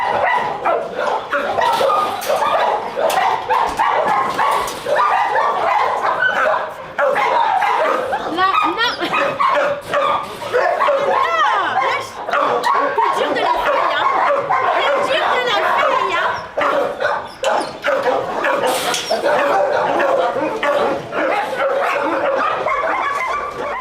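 A shelter dog at an animal refuge in Gennevilliers yips and barks repeatedly, with whimpers and excited vocalizing mixed with people talking nearby throughout.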